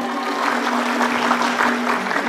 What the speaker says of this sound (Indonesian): Sekali lagi boleh beri tepuk tangan untuk Pakis Adat Kabupaten Tabanan.